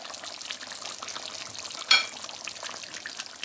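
Chicken Afghani karahi simmering in a pan after garam masala goes in, a faint, steady frying hiss with one brief sharper sizzle or scrape partway through, no talk.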